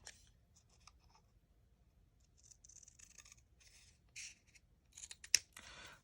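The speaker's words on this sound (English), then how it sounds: "I'm gonna cut along that mark, that score mark" Scissors snip through a folded paper circle along a scored crease for a chick Easter basket craft, soft quiet cuts that build into a few sharper, louder snips near the end.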